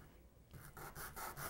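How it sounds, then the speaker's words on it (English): Sandpaper rubbing across the spout of a 3-D teapot cookie, a quiet dry rasp in four or five steady back-and-forth strokes, close up and alone. "you sand at the same angle on both sides"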